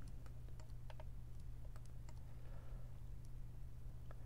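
Keys tapped on a computer keyboard while a value is entered, ending with a press of enter: a handful of light, irregular clicks scattered over a steady low hum, fairly faint and close.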